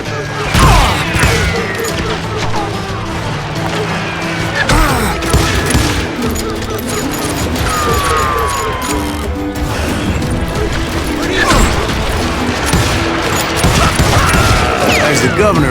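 Dense, continuous gunfire during a Wild West shootout, with loud overlapping shots and crashes filling the scene and shouting voices mixed in.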